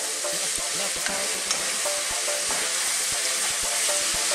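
Small-chopped pork for a pineapple and coconut milk curry cooking in a pan over fairly high heat, a loud continuous sizzle punctuated by regular sharp utensil scrapes and taps.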